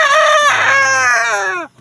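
A bantam chicken crows once, loud and close, a single strained, rising-then-falling call lasting under two seconds.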